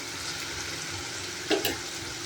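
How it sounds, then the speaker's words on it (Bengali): Spices for a rohu fish curry fry in hot oil with a steady close sizzle, briefly stirred, with a scrape and clatter near the end. "তারপর মশলাটাকে ভালো করে ভেজে নেব"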